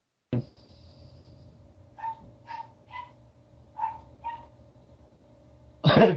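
A handful of short, sharp dog barks spaced irregularly over a low steady hum, with a louder burst at the very end.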